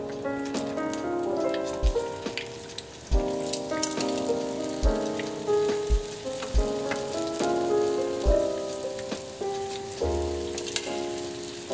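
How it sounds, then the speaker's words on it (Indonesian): Steady bubbling and sizzling of two mozzarella corn dogs deep frying in hot oil, continuous and close, with occasional sharp taps and a soft musical backing. "Di dalam api yang panas, kita masukkan 2 piece corn dog dan goreng hingga kuning kecoklatan."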